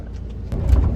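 Interior of a moving bus, a low rumbling engine and road drone that swells louder halfway through, with no talking.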